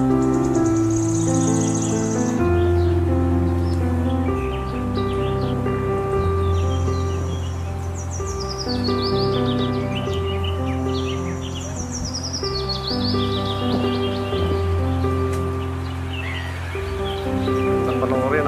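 Birds flocking to food scattered on the ground, probably seagulls, on a fishing outing in Kuwait: a steady mix of chirps and calls over a busy outdoor background.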